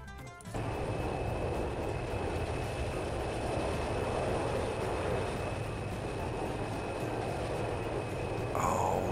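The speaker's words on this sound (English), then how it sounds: "Concorde takeoff." A Concorde takes off in the Transport Fever video game, a steady broadband jet roar with a faint high whine holding at an even level throughout, no voices over it.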